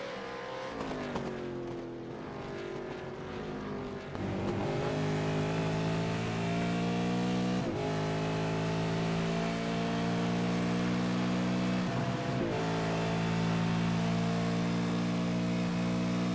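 A race car engine in the iRacing video game, a Super2 Series race at Barcelona-Catalunya, revs high and drops sharply as gears shift, several times in a row, loud and close, with steady engine drone between shifts.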